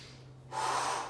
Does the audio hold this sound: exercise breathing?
yes